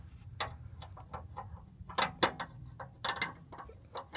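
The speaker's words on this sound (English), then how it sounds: "I'm going to use a crescent wrench to hold the actual nut on the lift pump end." Quiet, irregular metallic clicks and light scraping as a wrench works a fuel line nut loose on a 6.5L turbo diesel GM truck lift pump, up close with no talking.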